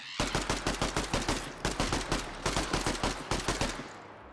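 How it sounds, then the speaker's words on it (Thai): Rapid bursts of automatic SMG gunfire in the zombie video game Zelter crack in quick repeated volleys, loud and close, with brief pauses between strings of shots. "โอหมันได้ยินเสียงปืนด้วย"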